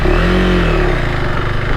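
A KTM 390 Adventure R single-cylinder motorcycle accelerating off-road in off-road mode, a loud close engine note rising in pitch then easing, with steady mechanical drone throughout.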